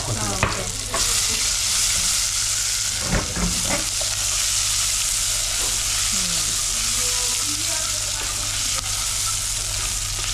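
Spices, cloves, garlic, ginger and onion fry in ghee, giving a loud, continuous sizzle with a few sharp stirring clinks near the start, close by and with no talk.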